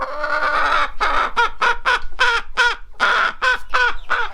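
Silkie hens clucking and calling up close in a run of about a dozen short, rhythmic bursts with throaty, harmonic tones that fill the clip, with no talking.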